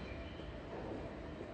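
An E531 series rapid train bound for Mito arrives at Kita-Senju station, heard as a faint, steady rumble of rolling wheels on track with no voices.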